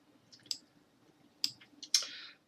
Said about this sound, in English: So let's click on this.